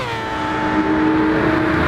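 A high, smooth engine note of a rotary-engined race car in Gran Turismo 7 at Monza holds steady and loud, with a buzzing, whining tone as it drives past.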